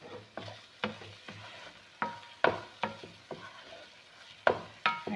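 Okra (bhindi) being stirred with garam masala in a hot frying pan: repeated scraping, sizzling strokes at a steady, uneven rhythm, close and clear with no talk.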